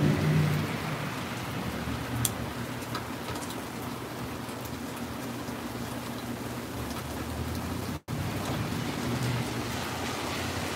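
Steady outdoor rain hisses continuously for the whole stretch, a dense even wash of falling drops with a few louder drips and a brief dropout.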